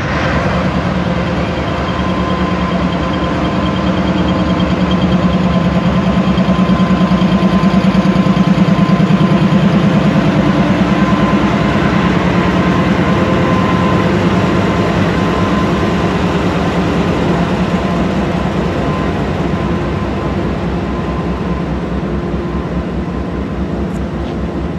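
A General Electric 3000-horsepower diesel locomotive idles nearby with a loud, steady low rumble and throb that stays even for the whole stretch, with no one speaking.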